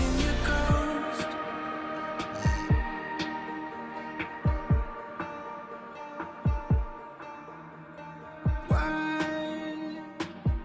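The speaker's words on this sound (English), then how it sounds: "I like the drum there. It sounds like a heartbeat." A song's drum beat sounding like a heartbeat: deep low thumps landing in paired, pulse-like hits under sustained music, recurring steadily throughout at moderate volume.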